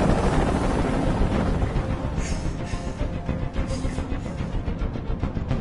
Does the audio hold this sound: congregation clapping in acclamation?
no